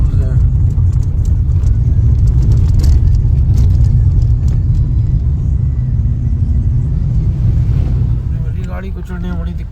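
A vehicle engine labours as it climbs a rough, rocky mountain road between Pokhara and Muktinath, a steady loud low rumble with wind buffeting, and voices talking over it.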